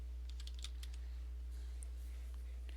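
Shift and other keys clicked on a computer keyboard during digital comic colouring in Clip Studio Paint, a few scattered light taps over a steady low hum, no talk.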